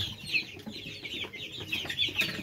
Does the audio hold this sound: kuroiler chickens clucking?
yes